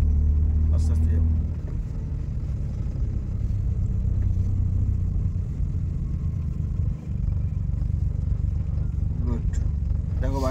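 A car creeps along slowly during a driving lesson, its low engine rumble steady and close throughout, with a brief dip near the start and faint voices underneath.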